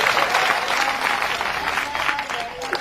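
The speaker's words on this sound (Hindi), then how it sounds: "तो आप तालियां बजा दीजिए" Audience applause at a Hindi comic poetry (hasya kavi) event, dense steady clapping filling the room throughout, close and loud with no speech over it.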